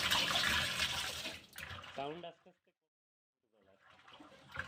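Water running and splashing while fish are washed, a loud close rush that tapers off into near silence, then returns faintly, with a voice talking partway through.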